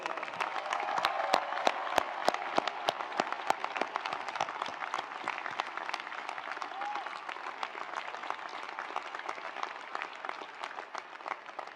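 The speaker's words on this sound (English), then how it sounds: "Let's give them another round of applause." Sustained applause from a large audience at a graduation ceremony, honoring the graduates' families and supporters: dense, steady clapping with a few sharper individual claps, fairly loud and continuous throughout.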